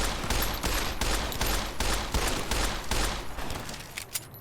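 Rapid, steady bursts of loud gunfire crackle in Fallout New Vegas, evenly spaced shots repeating about twice a second for several seconds before tapering off, with no talking.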